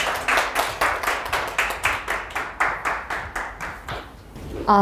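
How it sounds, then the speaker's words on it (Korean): Rhythmic, evenly spaced claps from an audience at a Korean teachers' lesson festival welcoming a teacher, about two beats per second, close and distinct, fading briefly before a voice begins at the very end. "박수로 환영해 주겠습니다."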